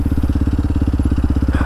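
Close, loud, steady idle of a Kawasaki KLX 230SM motorcycle with the O2 sensor deleted, its single-cylinder exhaust thumping in a fast even pulse with some mechanical clatter.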